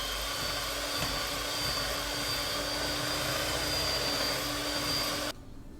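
An electric stand mixer whirs steadily as it mixes gingerbread dough, a loud, continuous motor drone with a high whine that runs evenly, then stops abruptly near the end.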